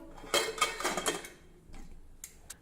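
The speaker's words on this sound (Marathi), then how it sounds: "आता आपण झाकण बंद करू" Several sharp metallic clanks and clicks as a pressure cooker lid is handled and closed, followed by a couple of fainter taps.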